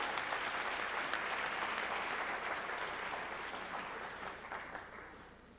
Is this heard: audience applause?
yes